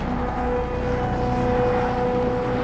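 An Osprey tiltrotor aircraft flying, a steady loud drone of engine and rotors with a constant hum and no break in the sound.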